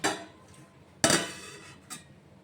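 A bowl of semolina soaking in water is covered, giving a few sharp clinks and clatters of metal or dishware, with one loud knock in the middle and lighter taps around it. The sounds are close, with quiet gaps between them.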